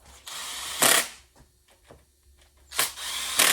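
A battery-powered 3/8 drive ratchet whirs in two loud bursts while a Ford 351 Cleveland engine is being assembled, with quieter clicks and handling noises in between.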